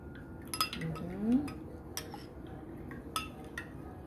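A spoon stirs a barley drink in a small glass, making several light clinks and taps against the glass with soft swirling in between, close and fairly quiet.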